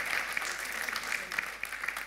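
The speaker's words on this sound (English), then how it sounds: "Would you please clap your hands as they would come down?" A church congregation claps its hands in a brief, moderately quiet burst of many overlapping claps, heard as a steady patter.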